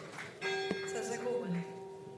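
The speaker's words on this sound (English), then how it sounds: "I think that the bells ringing is, in fact, rather symbolic" Church bells ring with clear, sustained metallic tones and lingering overtones. One sharp strike stands out among the layered ringing, and a faint voice sits low under it.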